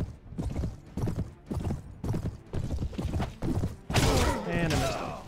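A horse gallops in Mount & Blade Warband with rapid, rhythmic hoofbeats thudding close by, ending in a louder burst of clashing and impact noise.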